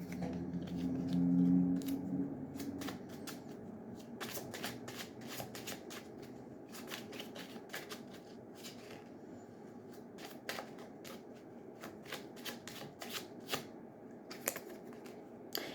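A deck of tarot cards is shuffled repeatedly at close range, producing crisp riffling bursts and taps in an irregular rhythm, heard alone without talk.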